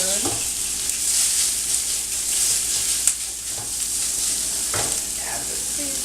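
Scallion whites frying in a pan and broken up with a spoon, a steady loud sizzle with repeated spoon taps and scrapes against the pan.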